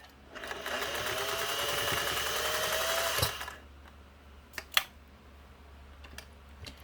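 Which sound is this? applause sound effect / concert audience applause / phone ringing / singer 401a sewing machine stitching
singer 401a sewing machine stitching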